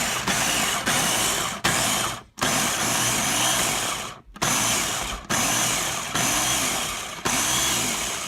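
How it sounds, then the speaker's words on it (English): Food processor grinding cake ingredients in short pulses, a loud, close whirring roar in repeated bursts of roughly a second each, with two brief pauses between them. "I'm going to grind it all up in the food processor."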